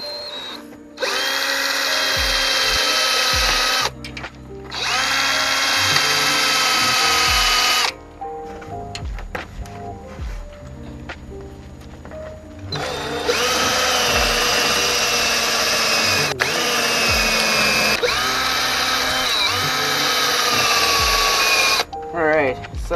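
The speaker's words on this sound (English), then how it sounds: "Alright, so I got this drill here." A power drill whines in long bursts, starting and stopping several times, with brief quieter gaps and some handling noise between runs.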